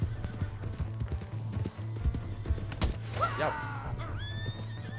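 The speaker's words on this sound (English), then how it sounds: "My horse!" A horse in the video game Red Dead Redemption 2 gallops with rapid hoofbeats and gives a loud, rising whinny, with game music and a short shout from a rider.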